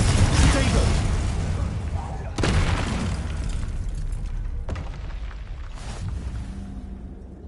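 The Confringo fire spell in Hogwarts Legacy goes off as loud booming blasts, a heavy explosion at the start and another near two and a half seconds, with a rumble that trails off under voices and game noise.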